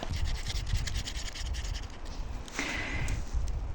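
Pen or pencil scratching out letters by hand on paper during a Russian spelling lesson, a close, steady rasp of short strokes with a brighter, firmer stroke near the end and no talking.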